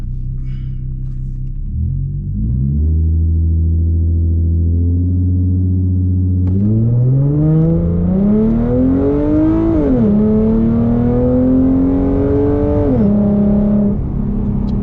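Blacked-out Ford Mustang idling, then launching hard with a loud, close engine roar that climbs in pitch, drops abruptly at each upshift and climbs again, with no talking over it.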